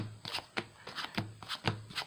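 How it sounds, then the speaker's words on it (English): Trading cards being power shuffled, a rapid run of crisp riffling bursts in steady rhythm, close and fairly loud, with no talk. "So I'm going to do a quick power shuffle"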